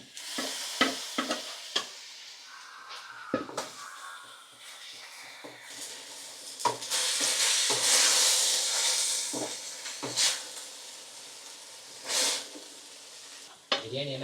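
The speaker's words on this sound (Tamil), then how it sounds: "இந்த குக்கரில் பிரியாணி போட்டுட்ருக்கேன்" Biryani cooking in a pressure cooker is stirred with a spoon, giving scraping and clinking strokes over a steady sizzling hiss of steam, close, with occasional louder knocks and brief voices.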